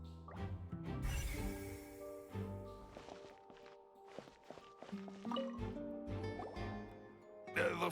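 Water drips and plops in a wet interior area in Genshin Impact, with scattered drops and a brief liquid splash amid light footsteps and soft game ambience.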